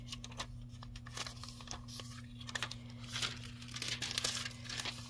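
Pink melon deco foil peels away from a layered stencil with close, crisp crinkling and tearing sounds, a steady stream of small crackles under a low machine hum.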